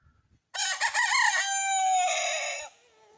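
An Egyptian farm-breed rooster crows once in a long, loud, drawn-out call lasting about two seconds, close by and alone, with quiet before and after.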